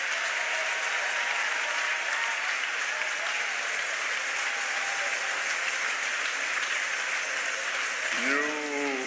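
A church congregation at a French-language thanksgiving service applauds in steady, dense clapping that lasts throughout, loud and sustained, with a voice breaking in near the end.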